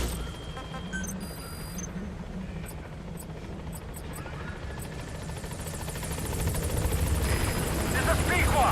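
Pequod, a helicopter in the video game Metal Gear Solid V: The Phantom Pain, comes in to land at a landing zone, its rotor drone swelling louder toward the end, with game beeps and a voice speaking over it.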